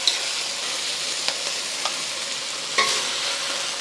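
Beef stir-frying in a pan with vegetable oil gives a continuous loud sizzle, broken by a few sharp scrapes and clinks of the spatula against the pan.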